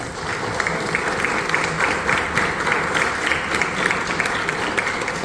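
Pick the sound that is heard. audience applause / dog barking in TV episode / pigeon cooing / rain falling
audience applause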